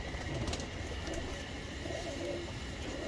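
A female pigeon from a mated pair coos softly under a steady background hiss, the low murmuring notes rising faintly through the mix.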